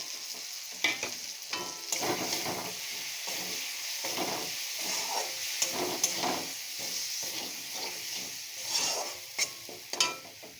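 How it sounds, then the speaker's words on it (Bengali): Tomato cooking with spices in hot oil for a shol fish and potato curry, sizzling steadily while a spoon scrapes and stirs in repeated strokes, close and continuous with no talk. "এই যে একটু মশলার সঙ্গে টমেটোটা একটু নাড়াচাড়া করে"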